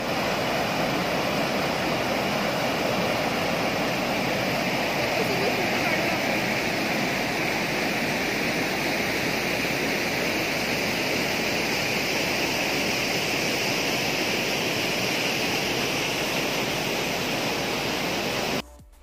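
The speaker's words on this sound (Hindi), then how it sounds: "कैसा लगा आपको पानी का तेज़ आवाज़ और झरना" Constant roaring rush of a waterfall, a dense, loud wash of falling water that carries on without pause.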